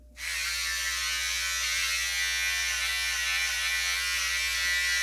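Inexpensive electric hair clippers buzz steadily and close up while trimming a neckline during a home haircut, a continuous motor hum with no speech.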